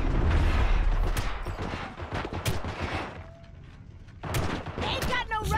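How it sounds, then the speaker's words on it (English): Bursts of gunfire during a Cyberpunk cutscene: rapid, crackling shots mixed with game voices and effects, a brief lull, then more shooting at the end. "I'm getting shot at while in a cutscene."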